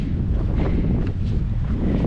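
Heavy wind buffeting a microphone on a cold Appalachian Trail mountainside, a constant low rumbling roar with no voices, loud and close throughout.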